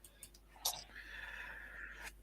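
One short, quiet sneeze bursts out in an otherwise hushed room, followed by a faint, breathy, whistling exhale.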